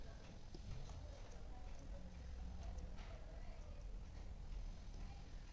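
Horse hooves clip-clop in a steady, fairly quiet rhythm against a constant noisy background, with speech running over parts of it.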